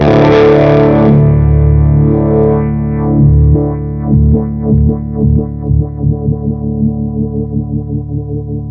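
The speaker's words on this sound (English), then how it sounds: "Getting like a wah-wah sound" Electric guitar through a Stone Deaf PDF-1X parametric distortion filter pedal with the frequency knob swept, giving a loud distorted tone that shifts in a wah-wah-like vowel sweep, ending in rhythmic repeated strummed chords.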